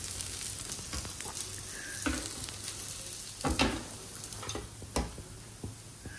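Banana stem cutlets shallow fry in oil with a quiet, steady sizzle, broken by a few soft scrapes and taps as they are shifted in the pan, close but low in level.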